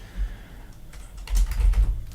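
Fingers tap out a short burst of keystrokes on a computer keyboard, close and clear, the clicks bunching into a quick run in the second half.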